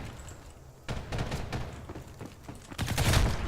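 Rapid gunfire in an online first-person shooter match, a sustained burst of loud overlapping shots after a quieter opening second, building denser toward the end, with no voices.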